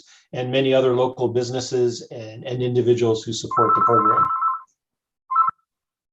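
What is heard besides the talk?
mobile phone ringing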